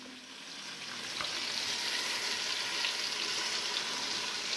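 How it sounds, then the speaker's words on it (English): Beef ribs sear in a hot pot with a loud, steady sizzle that swells after a brief knock as the meat goes in. "So get your meat in there. We're gonna get this seared on all the sides we can."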